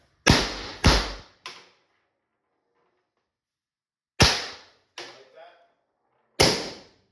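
LL4D Pistelle X68 carbine fires six sharp, close shots: two quick cracks, a softer third, then after a pause three more spaced reports, some with short ringing tails.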